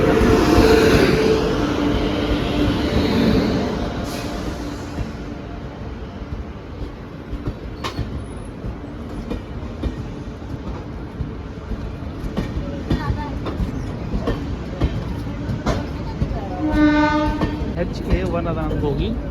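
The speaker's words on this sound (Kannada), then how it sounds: "ಬೀದರ್ ಟು ಯಶವಂತಪುರ ಟ್ರೈನ್ ಬಂತು ನಮ್ಮದು 16572 ಟ್ರೈನ್ ನಂಬರು" The Bidar to Yesvanpur Express, train 16572, rolls into a station with a loud, steady rumble and rattle of rail cars, and its horn sounds briefly near the start and again near the end.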